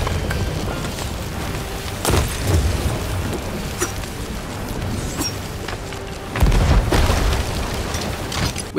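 Cannon shots blasting and wrecking boats in a game, heavy booms landing repeatedly over a constant crackling roar, with the biggest impacts near the middle and toward the end.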